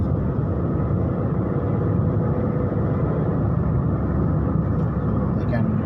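A car driving fast on an undivided highway between Siliguri and Birgunj, heard from inside as a steady, loud road rumble and engine drone holding level throughout.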